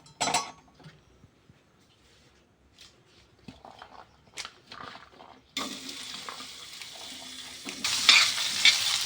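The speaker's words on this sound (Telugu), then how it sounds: "దీనిలో ఫస్ట్ అయితే ఆనియన్స్ వేసి ఫ్రై చేసేసుకుందాం." Chopped onions frying in a tablespoon of oil for pasta, with soft stirring and clinks of a utensil against the pan, then a steady loud sizzle that swells further toward the end.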